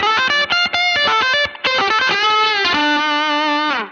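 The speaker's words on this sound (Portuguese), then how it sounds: "deixar esse fuzz com som super concentrado na região média" An electric guitar played through a mid-focused fuzz effect in Bias FX 2 software, loud and saturated, with a quick run of choppy staccato notes followed by sustained, buzzing held notes and bends.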